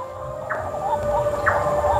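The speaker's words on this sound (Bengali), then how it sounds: "শুধু আওয়াজটা শোনো, পাখির ডাক।" Birds call outdoors in a garden lined with palm trees, two short chirping bursts standing out over a steady hum and low background rumble.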